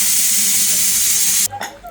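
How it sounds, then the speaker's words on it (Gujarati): A pressure cooker being opened lets out a loud, close, steady hiss of escaping steam that cuts off abruptly, leaving faint clatter. "તો કુકર જો અમારું ખુલી ગયું છે"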